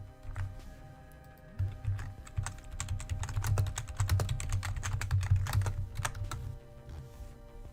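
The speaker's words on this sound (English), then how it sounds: "so you won't have to hear my tippity typing" A computer keyboard is typed on at a tabletop role-playing game broadcast, quick irregular clicking bursts that speed up and pause, fairly quiet and close, with no voices.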